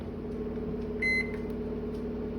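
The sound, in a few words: microwave oven running, heating M&Ms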